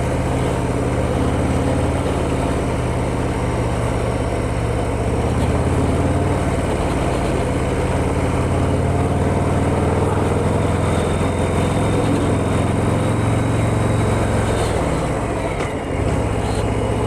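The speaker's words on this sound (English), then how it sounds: "It's got a nice purr with a standard exhaust." A 2025 Harley-Davidson Fat Boy motorcycle idles on its standard exhaust, a steady low rumbling engine note that stays even and close throughout with no talking over it.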